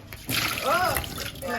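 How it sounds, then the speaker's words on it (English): Tteokbokki broth bubbling in a pot, a soft continuous liquid burble and trickle heard up close beneath a person's talking. "It's boiling."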